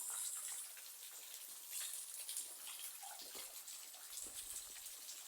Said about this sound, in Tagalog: Yun na lang ang tulo ng falls dito.